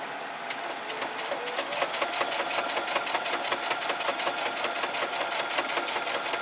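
A Brother SE630 sewing machine with a walking foot stitches through 14 layers of fabric, giving a fast, steady mechanical chatter of needle strokes that runs continuously at close range with no talking.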